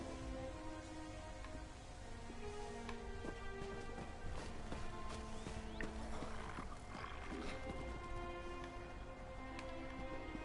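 A horse's hooves clop steadily during riding in the video game The Elder Scrolls Online: Morrowind, heard over a dense game soundscape with musical tones and layered ambience, moderately loud throughout.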